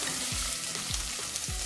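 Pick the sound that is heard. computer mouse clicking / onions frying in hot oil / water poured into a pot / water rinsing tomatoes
onions frying in hot oil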